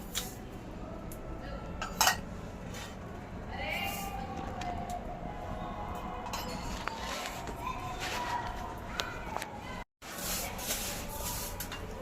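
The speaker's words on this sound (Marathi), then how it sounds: "आता आपण सगळे तीळ एकत्र भाजून घेऊया कारण कढई मोठी आपली" Metal utensil scraping and clinking in a large wok as sesame seeds are stirred and roasted over low gas, with scattered taps and faint background voices.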